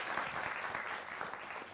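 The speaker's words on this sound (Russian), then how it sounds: "Вот аплодисменты должны быть сейчас." Steady crowd applause, dense and continuous for a couple of seconds at moderate loudness, with no talking over it.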